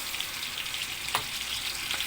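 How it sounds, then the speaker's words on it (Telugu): Ginger garlic paste frying in butter in a pan for mutton biryani, giving a steady close hiss and sizzle with one brief stir partway through. "ఆ తర్వాత 3 స్పూన్లు అల్లం వెల్లుల్లి పేస్ట్ వేసుకోవాలి."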